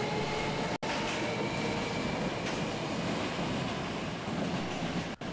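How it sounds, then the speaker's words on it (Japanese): A Hankyu Takarazuka Line train at Shonai station gives a steady, loud rail rumble and hiss that lasts the whole stretch, with two brief dropouts and no talk. "阪急電車宝塚線"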